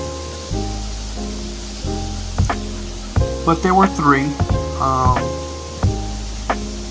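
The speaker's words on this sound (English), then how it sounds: "You will hear the waterfalls in the background." Waterfalls at the La Paz Waterfalls and Wildlife Refuge in Costa Rica rush steadily in the background as a constant broad hiss, mostly beneath a person talking close by.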